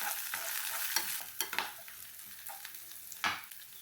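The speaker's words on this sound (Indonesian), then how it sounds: "tumis sebentar sampai layu." Sliced green onions stir-frying in a pan with garlic, a steady close sizzle broken by a few sharp crackles and stirring scrapes, no voices.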